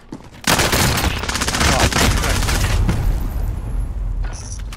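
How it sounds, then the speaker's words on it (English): A video game machine gun fires a sustained loud burst of rapid gunfire that starts abruptly and carries on for several seconds before thinning out near the end, with voices faintly underneath. "One's got a machine gun."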